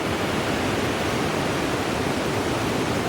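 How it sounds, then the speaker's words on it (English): Steady rushing water of a waterfall, a constant broadband roar with no pauses. "Neat little waterfall up there."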